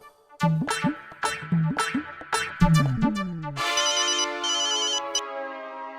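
A phone ringtone plays a bouncy repeated melody of several rising notes, then shifts into a sustained electronic chime, clear and close with no talking.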